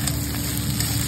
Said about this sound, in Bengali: এবার দিয়ে দেবো কেটে রাখা কুঁদরি